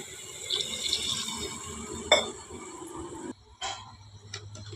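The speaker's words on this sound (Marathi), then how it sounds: "आणि पाणी ओतायचं" Water runs into a pot of washed rice being cooked on a wood-fired stove, a close, steady pouring that stops briefly and resumes, with no speech.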